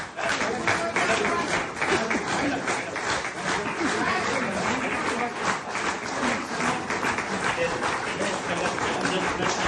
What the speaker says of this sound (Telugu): ఇప్పుడు ఆ ఘన సన్మానం జరుగుతున్న సేపు మనం మంచి క్లాస్ తో క్లాప్స్ వర్షం కురవాలండి.